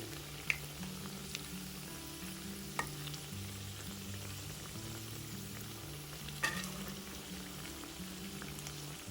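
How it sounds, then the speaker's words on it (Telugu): Vadas deep-frying in hot oil, a steady low bubbling sizzle with occasional soft pops and clinks, fairly quiet and continuous with no talking. "2 వైపులా తిప్పుకుని 2 వైపులా కూడా ఎర్రగా వేగేలా వేయించుకోవాలి"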